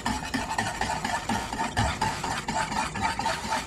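Spoon stirring cornflour and salt together in a pan for a chocolate pudding, a continuous soft scraping swirl with steady rhythm, close and fairly quiet, no talking.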